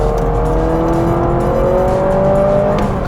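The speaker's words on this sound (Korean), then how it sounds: "갑자기 이런 엔진 소리를 들을 때" A Honda CR-V Hybrid Touring all-wheel-drive model revs during a test drive, giving a steady, loud engine drone that rises gently in pitch across the few seconds, with road and cabin rumble beneath and no talking.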